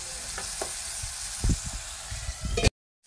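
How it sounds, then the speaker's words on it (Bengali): Onion and tomato frying in a pan for an egg and mustard dish, a loud continuous sizzle with a few scrapes of stirring, ending abruptly. "পেঁয়াজ আর টমেটো ভাজাটা মোটামুটি হয়েই গেছে"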